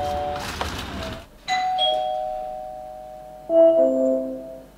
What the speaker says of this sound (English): So let's say somebody comes up and rings the doorbell.